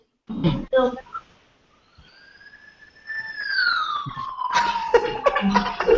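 A short rising-and-falling electronic siren wail from a phone app plays after a couple of brief voice sounds, followed by excited voices and noise over its tail.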